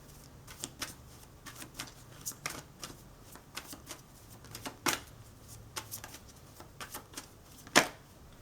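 Tarot cards are shuffled and riffled in a quiet room, producing scattered soft flicks and taps with a few sharper slaps near the middle and end, and no talking.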